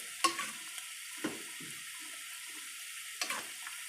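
A Thai bamboo shoot curry with mushrooms and crab paste bubbles in a pot, with soft intermittent bubbling and a few brief splashes over a steady hiss.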